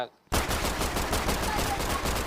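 Gunfire in a Roblox bloody ragdoll game starts after a brief silence and continues as rapid, loud, continuous heavy machine-gun bursts.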